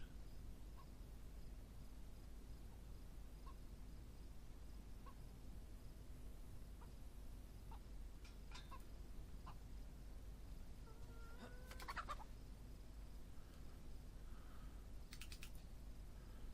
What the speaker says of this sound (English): I hear another chicken